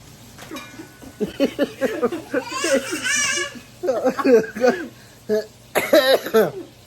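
A person talks and laughs, breaking into a few coughs and throat-clearing sounds mid-speech, close to the microphone.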